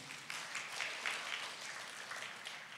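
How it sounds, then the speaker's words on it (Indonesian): A Sunday service congregation gives a short, soft round of applause for a pastor's honesty, the quiet clapping sounding somewhat distant and lasting only a few seconds. "Boleh tepuk tangan buat kejujurannya."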